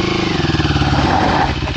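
An off-road motorcycle engine runs loud and close while the bike is stuck on a trail in the Serra de Valongo, its throbbing note steady with a slight rise in revs.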